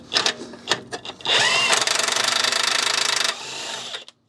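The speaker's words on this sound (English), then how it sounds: "going to try and impact that, see if it's going to come straight off." Pneumatic impact wrench hammering a front control arm nut off a BMW: short test bursts, then a loud sustained rattling run of about two seconds that cuts out and winds down, close up.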